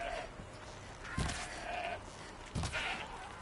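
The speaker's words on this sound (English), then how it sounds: "Oh, that's a goat." A goat in the video game Horizon Zero Dawn gives two bleats a little over a second apart. Both are fairly faint and sit over a quiet background hiss.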